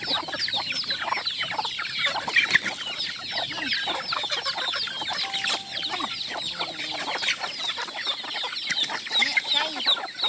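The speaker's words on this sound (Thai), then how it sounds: "ไก่" A flock of chickens clucks continuously in a rural setting, dense overlapping calls at moderate volume with no talking.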